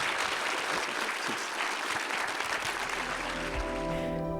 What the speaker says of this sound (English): a round of applause for Senator David Pocock